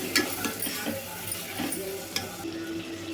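Tomato pieces frying in a pan for kuska biryani, a steady sizzle broken by scraping, clinking stirs of a spoon against the pan, close and busy, with no talk.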